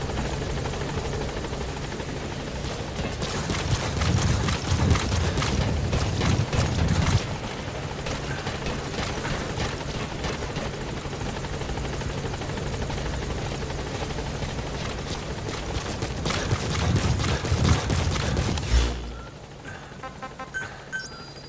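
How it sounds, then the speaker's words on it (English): Support helicopter arriving at a landing zone in Metal Gear Solid V: a loud, steady rotor thrum with rapid blade chop that holds for most of the stretch, then drops away sharply near the end. "Support helicopter has arrived."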